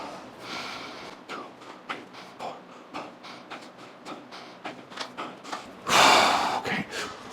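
Heavy rhythmic breaths, sharp and snorting, repeat steadily close to the mic during a rest-pause set under a weight stack, ending in a louder strained exhale burst near the end.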